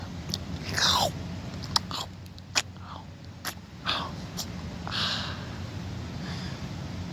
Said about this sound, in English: Give me a potato chip.